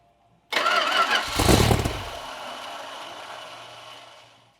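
A Chrysler 318 stroker V8 cranks briefly and fires, its loud catch flaring up before it settles into a steady, slowly fading idle, with no talking.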